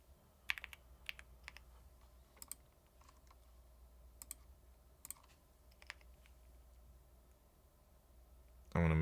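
Someone types on a computer keyboard during coding practice: sparse, quiet key clicks scattered over several seconds, ending in a sudden loud thump.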